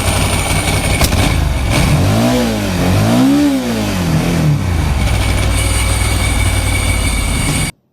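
A custom 1997 Ducati 900SS engine revs loudly and close, climbing and falling in pitch twice while its dry clutch rattles steadily underneath, then cuts off abruptly at the end.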